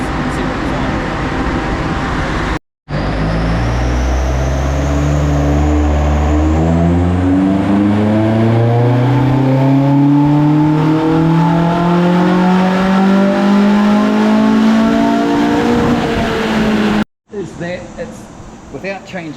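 A Toyota 4AGE engine fitted with individual throttle bodies and adjustable cam gears revs hard on a dyno, its loud note sweeping up through the rev range in long rising pulls, with short breaks between runs.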